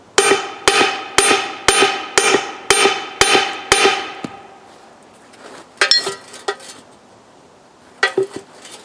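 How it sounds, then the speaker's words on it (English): Steel hammer blows on a rusted-in universal joint, trying to drive it out: eight hard ringing metallic strikes in a steady rhythm, then a gap and a few more scattered clanking hits, loud and close. "See if we can pound it out the traditional way."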